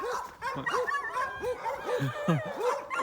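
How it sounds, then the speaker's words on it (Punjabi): Dogs bark and yip in quick, repeated bursts, several close barks overlapping with higher whimpering yelps in an agitated chorus. "ਇਹਨਾਂ ਨੂੰ ਕੀ ਕੁੱਤੇ ਵਾਂਗੂ ਭੌਂਕੀ ਜਾਂਦੇ"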